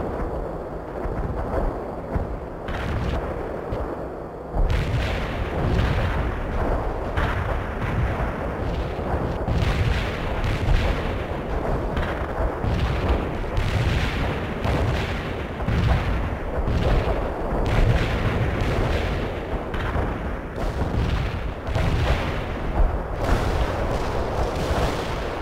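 Repeated heavy mortar and artillery blasts in World in Conflict, a dense, rumbling barrage of booms and explosions continuing throughout with little pause.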